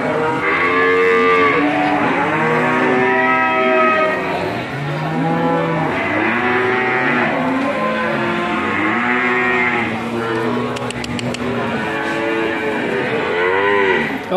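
Many cattle at a livestock market for young Pegon bull calves moo over and over, overlapping calls from several animals close by, loud and continuous with a busy crowd murmur underneath.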